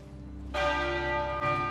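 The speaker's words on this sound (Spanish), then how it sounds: "El ataúd ha entrado por una puerta lateral de la abadía, que ha hecho sonar 96 campanadas, una por cada año de vida de la reina." Church bells at Westminster Abbey toll for Queen Elizabeth II's funeral, ringing out in a sustained, resonant peal that strikes loudly and then keeps humming and ringing without any talk.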